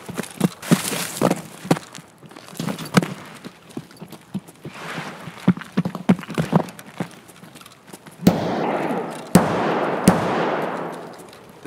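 Gunfire in the video game Escape From Tarkov: scattered sharp cracks and short bursts at varying distances, with a few louder close shots and some rumbling echo late on.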